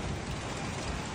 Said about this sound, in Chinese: 雨不大，雷不小呢